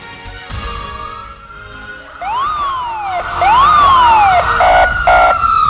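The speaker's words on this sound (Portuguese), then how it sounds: "Coloca aí as nossas sirenes." A police siren sound effect plays on a TV broadcast, wailing in rising and falling sweeps, then shifting into rapid two-tone yelps that grow louder toward the end, with no speech over it.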